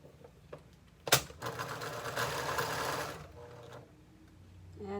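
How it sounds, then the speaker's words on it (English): A serger runs in one steady burst of about two seconds while sewing a garment's side seam, preceded by a sharp click and followed by quieter handling noise, fairly close and with no talk. "it just needs the inside serged and the edge rolled up and hemmed"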